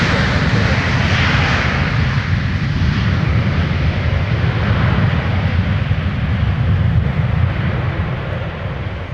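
A Sun Country airliner in a 1990s retro livery rolls past at Minneapolis–St. Paul airport with a loud, broadband jet engine roar that swells early and then slowly fades toward the end.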